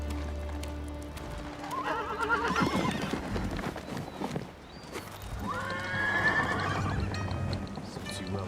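Horse from the video game Ghost of Tsushima neighing twice, loud whinnies with snorting and hoof clip-clop between them, set against game ambience.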